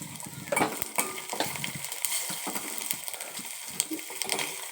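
Green chili paste and chopped curry leaves fry in hot oil with a steady crackling sizzle, broken by a few louder spattering pops and scrapes of stirring in the pan.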